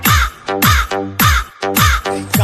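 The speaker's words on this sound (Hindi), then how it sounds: "कौवे का आवाज आ रहा है भाई" A crow caws loudly and close by, four harsh, rasping calls in an even rhythm with short gaps between them.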